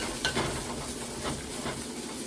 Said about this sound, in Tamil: இப்போ நல்லா மிக்ஸ் பண்ணி விடுவோம்.